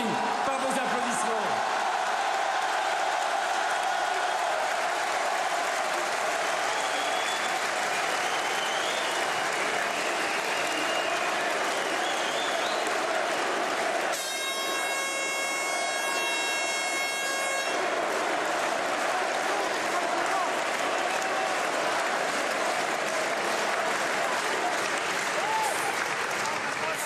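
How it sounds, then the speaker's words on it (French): A large crowd at a political rally applauds in a long, sustained roar of clapping, with a brief horn-like tone rising over it midway and speech mixed in. "ils sont étourdis par vos applaudissements"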